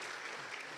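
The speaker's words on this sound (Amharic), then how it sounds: "እስኪ ሴቶች አጨብጭቡ" Women in a church congregation clap during a sermon, a brief, fairly faint burst of many hands heard alone without speech.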